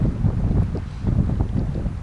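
Steady, gusty wind roaring and buffeting the microphone at Washakie Lake, with low rumbling and choppy water noise throughout.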